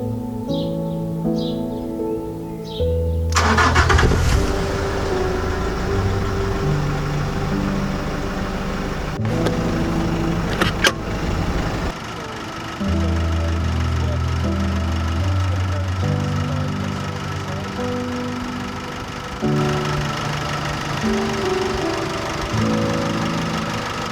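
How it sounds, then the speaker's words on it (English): A Nissan Navara D40 with the YD25 diesel engine, fitted with a new boost control solenoid and cold intake pipe, starts with a loud crank and then runs, its steady diesel clatter lasting to the end with a few revs and shifts in tone. "So now I'll give the engine a bit of a run just to make sure it's all driving properly."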